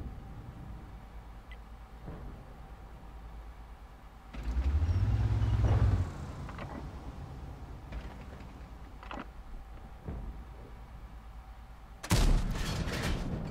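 Tank cannon fire in World of Tanks, a Strv 103B in play: one heavy, booming shot with a deep rumbling tail stands out mid-clip, and a second sharp blast comes near the end, over quiet engine hum.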